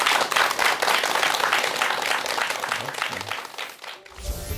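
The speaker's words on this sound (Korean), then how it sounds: "여러분 큰 박수 부탁드립니다" An audience at a lecture applauds in a dense, steady burst that fades out after about four seconds, followed by a brief low sound.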